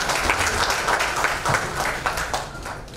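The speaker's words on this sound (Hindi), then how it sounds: "ताली तो बनती है" An audience at a film trailer launch event claps loudly and steadily, a close, dense burst of applause filling the hall without a break and swelling slightly at the very end.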